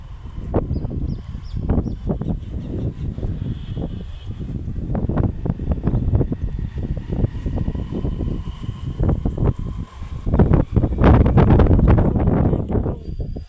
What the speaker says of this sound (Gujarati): જો કેટલો પવન આવે છે